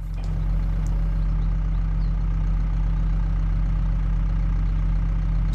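A tractor engine idles steadily in the Farming Simulator 22 video game, a constant low rumbling drone with no change in pace, close and without talk.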